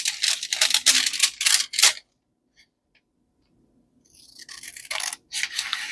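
Scissors trim glued-down paper in a craft project, a quick run of close crisp snips, then a near-silent pause before more snipping and rustling resumes.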